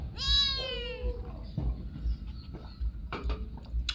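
A cat gives one long, loud, close meow, followed by a few fainter squeaks and small sounds over low background noise.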